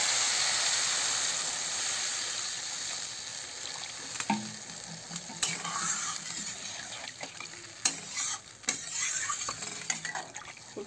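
A fish curry spice mixture is stir-fried in a pan, giving a steady broad sizzle. Sharp scrapes and clacks from the stirring cut in now and then, growing more frequent toward the end.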